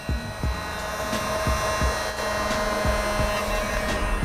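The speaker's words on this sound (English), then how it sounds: "we're gonna turn up that heat gun just a little bit further to keep it going" Steady whooshing roar of a heat gun blowing hot air close by, with a constant whine and a faint rhythmic ticking underneath.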